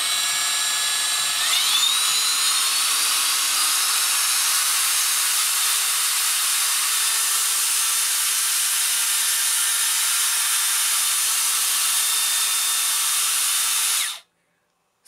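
A Makita 18V cordless belt sander (XSB01/DBS180) spins up from a lower pitch to a steady high whine, running loud and continuous for about fourteen seconds before cutting off abruptly.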